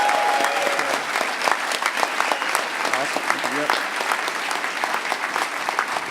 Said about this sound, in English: Give Flo a huge round of applause.